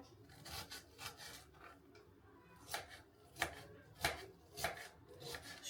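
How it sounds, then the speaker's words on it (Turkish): A knife chops an onion into small pieces on a board, giving a series of sharp, close cuts in an uneven rhythm, several in quick succession, with no talking. "Yarısını şöyle ufak ufak böleyim de ağza büyük büyük gelmesin"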